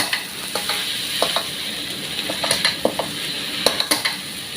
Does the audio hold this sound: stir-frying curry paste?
yes